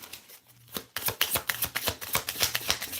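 A deck of playing cards is shuffled up close, a quick riffle followed by a steady series of crisp, rhythmic flicks and bridge-like snaps, loud and clear with no talking.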